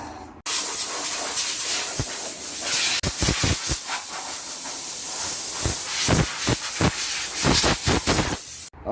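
Compressed air blows sanding residue off a painted Harley FXSTC motorcycle part in a steady loud hiss, broken by a series of sharp bursts as the nozzle is pulsed, with no talking.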